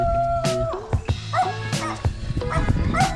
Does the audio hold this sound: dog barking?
yes